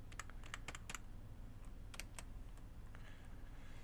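Keys clacking in irregular bursts on a vintage computer keyboard, fairly close, over a steady low electrical hum with no talk.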